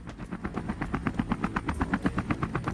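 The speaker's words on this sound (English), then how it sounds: "And that is the noise of a helicopter." A helicopter in the video game Dyscourse flies overhead with a rapid, steady rotor chop, a regular pulsing beat repeating about eight times per second at moderate level with no talk.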